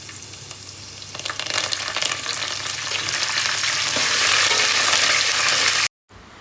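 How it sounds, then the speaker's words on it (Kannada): Onions, green chillies and curry leaves fry loudly in hot oil for leftover idli upma, a dense steady sizzle with occasional stirring that swells toward the end before cutting off abruptly. "ಈಗ ಈರುಳ್ಳಿ ಎಲ್ಲ ಬೇಯ್ತಾ ಇದೆ"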